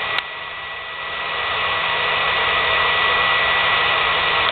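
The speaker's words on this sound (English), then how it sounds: "More of the hairdryer" Steady, loud whooshing roar of a hair dryer blowing air into a wood stove as a makeshift supercharger, a constant broadband hiss with a faint low hum and no talking.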